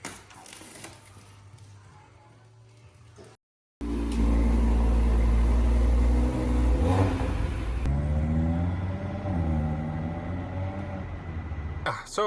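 An Audi RS3 8Y on a POV drive at a car event: after a brief cut, the engine roars loudly and steadily, pitch rising and falling through gear changes, close and strong throughout.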